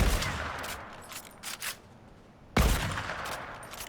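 Gunfire in the Fortnite video game, two loud, close blasts opening and closing the passage, with faint shot noises between them and no talking.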